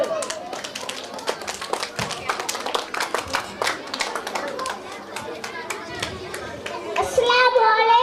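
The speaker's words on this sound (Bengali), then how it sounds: "হাততালি দিবেন, ওদেরকে এনকারেজ করবেন।" A school audience claps steadily for a child's rhyme recitation at an annual function, with dense overlapping hand claps that continue throughout, mixed with children's voices and chatter.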